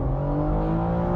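A BMW M4 Convertible Competition xDrive accelerating hard, its engine holding a loud, steady, rising drone with strong low harmonics, close and continuous without any talk.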